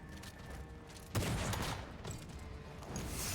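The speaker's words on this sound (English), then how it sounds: "He just shot." A gunshot in the Final Fantasy XIV video game: one sudden sharp crack over a steady background bed of game music and ambience, followed by a sustained rumbling tail.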